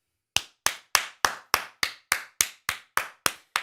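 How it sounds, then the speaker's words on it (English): A single pair of hands claps twelve times at an even, unhurried pace, each clap crisp and close with short silences between and no voices. "Let's get a round of applause for Big Fox 99 today"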